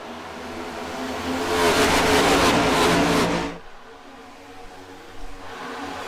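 Race cars in a sim racing video game at Auto Club Speedway roar loudly as they accelerate away after the pace car leaves, a dense engine wail that swells, holds for about two seconds, then drops off sharply.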